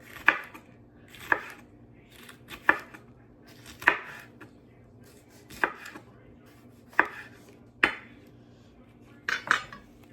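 A knife slices peppers into quarter-inch rounds on a cutting board for cowboy candy, each cut a sharp, distinct knock spaced roughly a second or more apart, close and clear with no talk.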